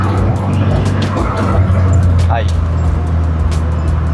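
A modified 1996 Honda Civic with a D16Y8 intake pulls away, its engine a steady low drone with rising revs, heard from inside the car under someone's talking.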